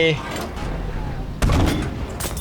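A heavy tank cannon blast booms out in Battlefield V, a single deep explosive shot over a steady rumble of game background noise, followed by a lingering roar.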